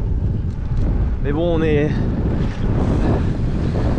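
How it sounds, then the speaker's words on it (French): Strong coastal wind on the Finistère dune road buffets the microphone in heavy continuous gusts, while someone speaks French briefly in the middle. "Il y a pas mal de vent hein, sur la côte, mais c'est normal."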